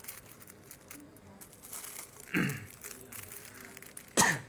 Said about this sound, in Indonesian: Maaf agak batuk ya